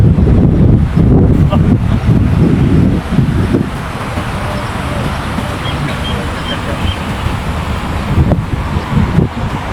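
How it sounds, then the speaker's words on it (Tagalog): Wind blows steadily across the microphone in Katara Park in Doha, Qatar, making a loud, continuous rumbling roar. The roar is strongest in the first few seconds and then settles slightly, with faint background noise beneath it. "Ang ganda naman ng hangin."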